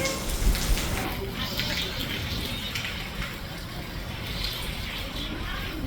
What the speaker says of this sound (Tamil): சூப்பர் மழை.